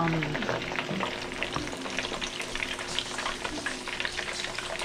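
Plantain cups fry in a pan of hot oil, giving off a dense, even, crackling sizzle close by, with light scraping and bubbling as they are turned, and no voices.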